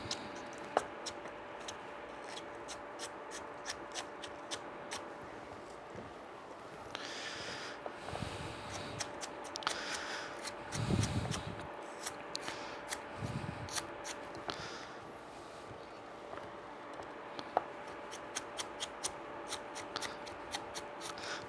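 Knife chopping celery into julienne strips for chow mein, a quiet run of small crisp cuts and taps on a board with soft handling noises between them, no talk.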